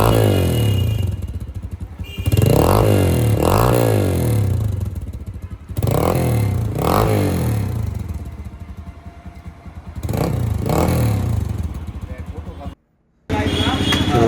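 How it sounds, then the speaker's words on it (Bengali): A TVS Apache motorcycle modified into a scrambler in Bangladesh revs up in repeated loud bursts that fall back to idle, with someone talking over the engine and a brief cut to silence near the end. "সাউন্ডটা একটু শোনেন আপনারা বাইকের"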